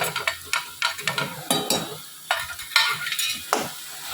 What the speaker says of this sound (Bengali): এগুলো সব দিয়ে গ্যাসটা কম করে এটাকে ভালো করে কষতে হবে।